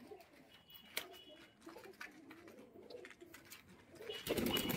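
Pet pigeons in a loft coo softly in low, rolling calls close by, with a few faint wing flutters and a louder rustle near the end.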